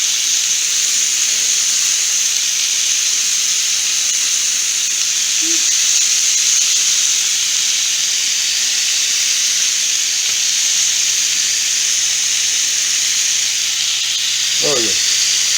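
Shrimp cooking on a hot surface for quesadillas gives a loud, unbroken hiss throughout, with faint brief voice-like sounds beneath it.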